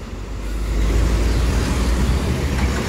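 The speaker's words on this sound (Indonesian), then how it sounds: "Bus-bus mulai merapat." Buses idle and rumble at a busy Palembang bus terminal ahead of the fasting month, a steady close low engine drone with traffic noise filling the whole stretch.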